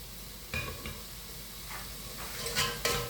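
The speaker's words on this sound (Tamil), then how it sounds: "இப்போ வந்து வடிவாக கலந்து விடுவோம்" A spoon stirs vegetables for chicken fried rice in a hot pan, with a soft, steady sizzle and a few distinct scrapes against the pan near the start and end. No voice is heard.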